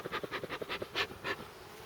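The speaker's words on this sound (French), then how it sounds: "Et je vois qu'il se porte assez bien, ces petites abeilles" Honey bees buzz around an open hive in a steady, pulsing drone, close by and fairly loud, with the buzzing swelling in rhythmic waves and no talk.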